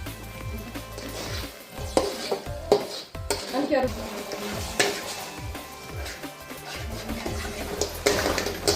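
Green peas, tomato ketchup and fried Maggi noodles in a pan, stirred with a spoon. Scraping and clinking sounds run over a soft sizzle, close by and fairly quiet.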